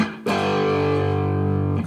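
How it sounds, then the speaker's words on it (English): An electric guitar chord rings out with mild distortion, struck once and held steadily before being cut off, close and fairly loud. "A nice kind of not over the top distortion."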